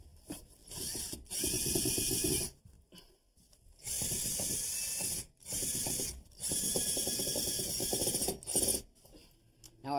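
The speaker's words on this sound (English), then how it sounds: "I've pre-installed some screws so I can screw into the adjacent studs" A screw gun drives pre-set screws through a header into adjacent wall studs in several loud, close bursts of a few seconds each, with short pauses between drives.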